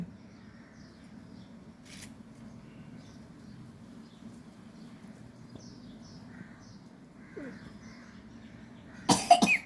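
A quiet room hum with a faint cough early on, then a sharp, louder cough burst near the end.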